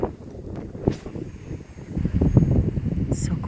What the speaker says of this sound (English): Oh, that's really windy.